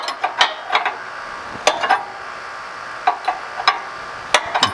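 Ratcheting wrench clicks while tightening the deck height adjustment on a lawn mower to raise the front of the deck, in close, sharp bursts of several ticks separated by short pauses, with no voices.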